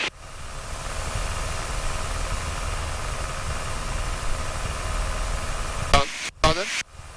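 A light aeroplane engine throttled back slightly for a gentle descent at about 2,000 feet along a lake. It gives a steady, loud cabin drone with broadband wind rush, and a few short knocks and clatters near the end.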